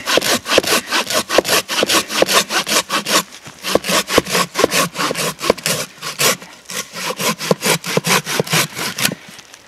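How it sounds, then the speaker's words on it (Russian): A folding hand saw, a Fiskars SW75 or Bahco Laplander, cuts through wood in loud, fast, rhythmic back-and-forth strokes that continue almost without pause, with no talking. "когда пилишь с упором, когда что-то плотно стоит, не болтается, не шатается, это вообще милое дело"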